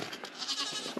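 Goats bleat inside a shed on an off-grid homestead, a couple of short nasal calls rising over a close, slightly noisy background, with the last bleat sharper and louder near the end.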